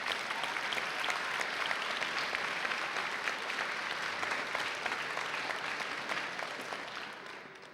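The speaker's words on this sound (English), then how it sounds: "Let's all give them a nice round of applause." Applause from an audience at a high school class day ceremony, a steady wash of many hands clapping at moderate distance, sustained evenly before gradually thinning at the end.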